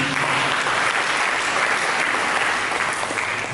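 A church congregation breaks into loud, sustained applause during a sermon, many hands clapping in a dense, continuous roar with no speech over it.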